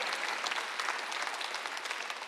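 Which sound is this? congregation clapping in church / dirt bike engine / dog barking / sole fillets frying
congregation clapping in church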